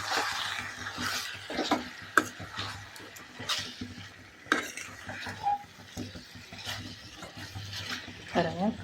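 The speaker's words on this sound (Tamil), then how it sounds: "இப்போ கொஞ்சம் கருவேப்பிலை போடுறேன்." Curry leaves hit hot oil in a pan for a pepper chicken gravy, frying with a soft sizzle while a spoon stirs and clinks against the pan in scattered sharp knocks.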